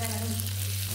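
About two spoonfuls of butter melting in a hot pan, giving a steady soft sizzle with a low hum underneath, fairly quiet and with no speech.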